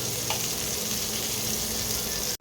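Stuffed eggplants fry in a pan with a dense, steady sizzle that holds at an even level throughout, close and loud, before cutting off abruptly at the end.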